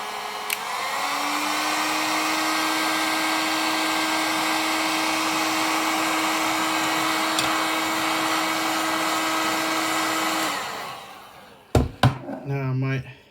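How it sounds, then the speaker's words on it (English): Heat gun blowing hot air to strip paint, a loud steady whirring blow with a fixed tonal whine lasting about ten seconds, then cutting off, followed by a few clattering knocks. "All right, bit of a hit with the heat gun."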